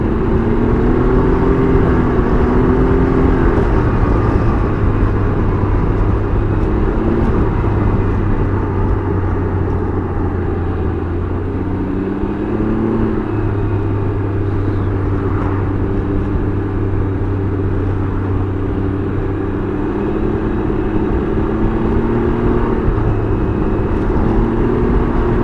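A Can-Am Ryker 900 three-wheeler hums along on a test ride, its engine droning steadily with shifting pitch and occasional rises as it accelerates, loud and continuous with road and wind rush throughout.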